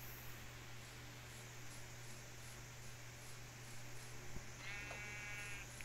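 A sheep in Minecraft gives one short, faint bleat near the end, over a steady low hum and quiet game ambience.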